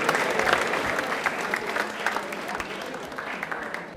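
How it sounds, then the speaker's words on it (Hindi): Studio audience at a televised quiz show clapping loudly for a contestant, a sustained burst of many hands that thins gradually toward the end. "तालियां एक बार इनके लिए जोरदार हो जाए।"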